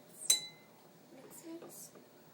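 Cups of egg dye clink while being mixed, a sharp ringing tap near the start followed by softer clinks, quiet and close, with voices speaking in between.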